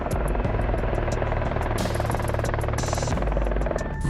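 A Ka-27PL anti-submarine helicopter flying, its rotors giving a loud, steady, rapid throbbing chop over a continuous engine hum, close and unbroken throughout, with brief higher whines near the end.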